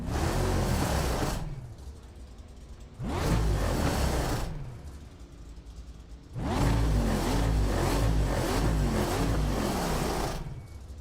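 A car engine revs hard in three loud bursts with a steady idle between them, close by with no talk over it, heard during an end-of-year racing outing.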